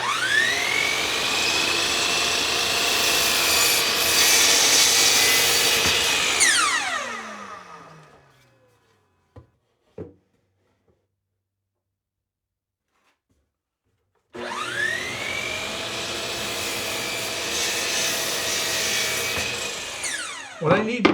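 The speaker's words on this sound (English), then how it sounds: "I'm just going to trim them down to the final width here on the miter saw." Miter saw spinning up and cutting glued-up wood boards to width, a loud whine that winds down, then quiet with faint clicks before a second cut starts.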